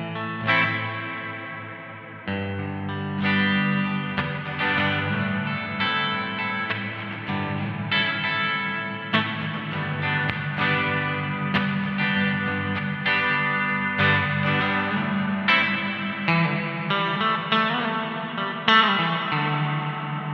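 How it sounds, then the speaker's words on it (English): Electric guitar runs through a Line 6 HX Effects double tank reverb with pitch shift, giving a haunting, washy tone of chorused, echoing chords and notes that swell and blur together for about twenty seconds without talk. "then a double tank, so tank reverbs, that'll be like an oil can, I think. Bit of a pitch shift on there"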